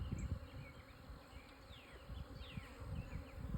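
Honeybees buzzing around a newly installed nuc hive, a steady low drone with individual bees whizzing close past and away, loud and continuous with no talk.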